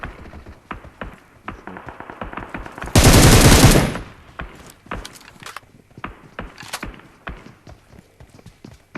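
Gunfire in PUBG Mobile: scattered sharp single shots and clicking footsteps, broken by a loud, dense one-second burst of automatic fire, all close and crisp.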